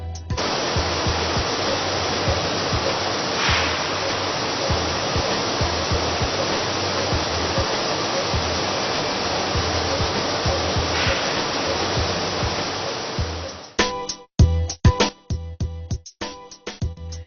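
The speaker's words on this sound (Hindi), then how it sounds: "इस सिस्टम में गेहूं को साफ पानी से धोया जाता है" Water pours and splashes steadily through a wheat washing system that cleans grain with clean water, a loud continuous rushing wash that cuts off near the end into a few brief clanks and bursts.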